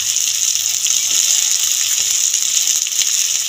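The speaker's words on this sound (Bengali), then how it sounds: "আগে থেকে ভাজা আলু দিয়ে দেবো মশলার" Pre-fried potatoes go into hot, sizzling spice masala for a rohu fish curry, giving a loud, steady hiss and crackle of oil that holds evenly from start to finish with no talking.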